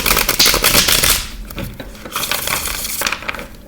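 Tarot cards being shuffled give crisp, dense riffling and flapping bursts, loud and close, in two rough rounds with a brief lull between, with no voices.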